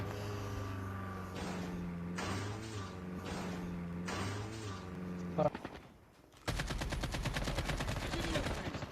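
Gunfire in the video game Call of Duty, a dense run of rapid shots under loud talk, then a pause and a sustained burst of automatic fire near the end.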